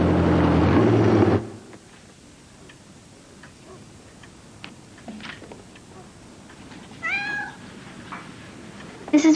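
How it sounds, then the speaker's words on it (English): A voice sounds briefly at the start. Then a clock ticks quietly. Later, Morgie, a pregnant female cat, gives a clear meow. "This is Morgie. She's going to have kittens soon."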